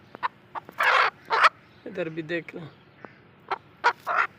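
A black hen clucks and gobbles in short bursts, close by, alongside her clutch of seven eggs, with someone speaking briefly between the calls.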